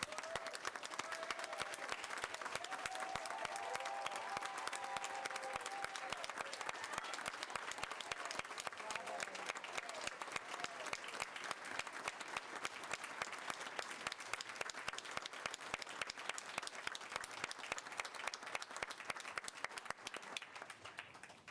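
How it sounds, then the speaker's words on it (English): A large audience at a board meeting applauds steadily and continuously, a dense wash of clapping that fills the room and fades slightly at the end. "give these young people another round of applause"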